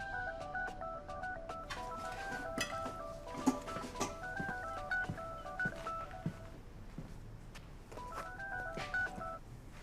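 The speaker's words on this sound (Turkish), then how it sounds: "telefon çalıyor" A telephone in a home rings with a melodic electronic ringtone, repeating short tonal phrases in bursts over a quiet room, with a few faint knocks in between.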